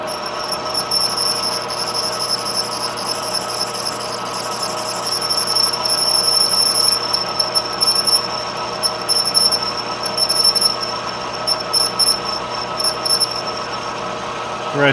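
A 1937 Harley-Davidson Flathead crankcase being machined at 200 RPM gives a steady mechanical drone with high-pitched tonal whines and a faint squeal, continuous and close throughout.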